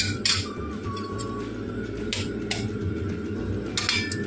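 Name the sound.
eggs being beaten in a dish with pepper and salt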